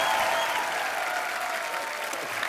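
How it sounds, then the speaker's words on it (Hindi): A television comedy studio audience gives loud, sustained applause that fills the room for a couple of seconds. "आप सबकी जोरदार तालियों के बीच"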